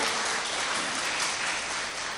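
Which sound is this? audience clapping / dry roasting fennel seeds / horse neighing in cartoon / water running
audience clapping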